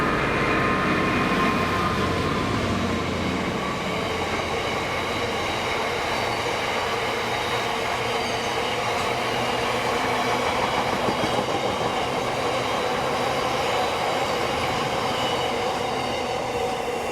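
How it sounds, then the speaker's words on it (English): A heavy loaded cement freight train rumbles past steadily, a continuous loud roar of wagons rolling by with faint rhythmic clatter and no voices. "Moss End Stirling to Carlisle NY loaded cement train"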